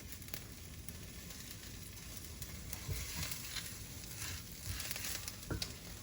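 Dried chiles fry in oil with a steady, soft sizzle and scattered crackling pops, continuous and close.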